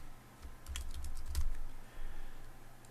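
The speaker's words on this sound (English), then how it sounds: "So I'll type the word fishing here" Someone types quickly on a computer keyboard, close and fairly quiet, a dense run of clicking keystrokes that pauses briefly and then resumes.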